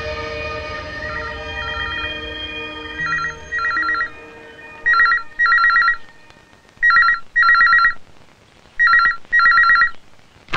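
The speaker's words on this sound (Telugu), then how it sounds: "ఫోన్ రింగ్ అవుతుంది" A phone ringtone rings indoors in bursts of electronic warbling tones, repeating in paired rings with short gaps, loud and clear over faint background music.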